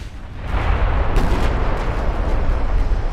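Heavy 18-inch naval guns firing a broadside from the battleship Fuso in Ultimate Admiral Dreadnoughts, loud deep booming blasts rolling into a sustained rumble with a sharp report partway through.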